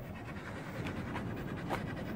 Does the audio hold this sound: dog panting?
yes